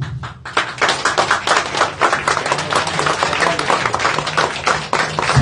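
A large rally crowd in Wrocław breaks into sustained applause, thick rapid clapping that swells and holds steady, loud and enveloping, with no speech over it.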